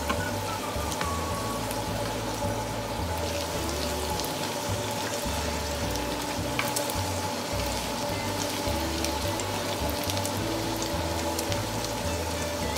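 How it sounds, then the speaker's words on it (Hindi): Spring rolls frying in hot oil, a steady dense crackle and sizzle running the whole time at moderate loudness, with a low background hum and no talking. "तो फ्राई होने के लिए रख देती हूँ।"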